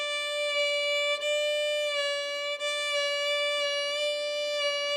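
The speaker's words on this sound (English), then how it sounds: "There are vibrato exercises." A fiddle plays a vibrato exercise, one long sustained bowed note whose pitch wavers slowly up and down, with two brief breaks where the bow changes direction. The note is close, bright and steady, and no one talks.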